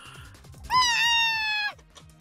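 A cat in the Riddle Joker video game gives a single clear, drawn-out meow, close and loud over soft game background music.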